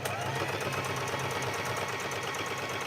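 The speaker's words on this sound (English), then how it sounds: "Just a touch of freestyle sewing, just enough to keep the interface together on the piece of external padding." A sewing machine runs continuously at a fast, even stitching rhythm while freestyle stitching through wadding padding, close and fairly loud throughout.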